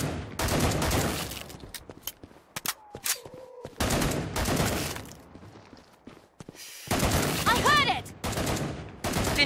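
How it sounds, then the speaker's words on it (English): Gunfire in the video game Killing Floor 2 on a custom skyline map, long loud bursts of automatic shots broken by short gaps and a few single cracks, with brief voice sounds between volleys. "She shoots, she kills!"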